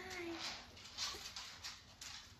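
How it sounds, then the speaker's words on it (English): Dogs come closer, giving soft intermittent whimpers and yips over a faint hiss, fairly quiet with no clear talk. "Here come the dogs."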